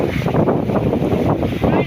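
Strong wind buffets a small fishing boat moored at a fish aggregating raft in choppy seas, a loud continuous rushing roar with microphone wind rumble and no speech.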